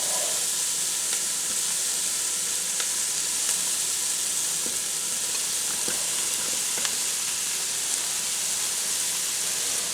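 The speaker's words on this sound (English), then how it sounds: "now we're going to add in our mushrooms" Mushrooms sizzling steadily in a hot frying pan for a Salisbury steak dish, a continuous close frying hiss with faint stirring clicks and no talking.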